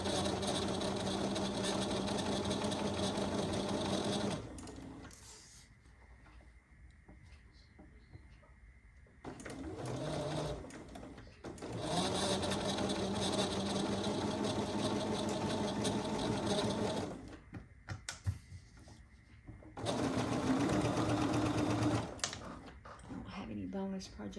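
A sewing machine stitches a snowball quilt block in several long runs separated by pauses, heard up close, while a person talks over and between the bursts.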